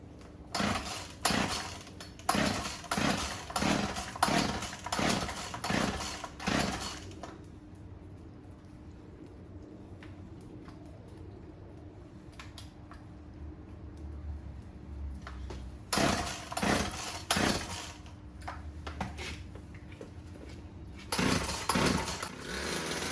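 Old second-hand chainsaw bought cheap on FB Marketplace being pull-started: bursts of rapid sputtering engine cranking, then a quieter lull with a few knocks, then more sputtering bursts, close and loud.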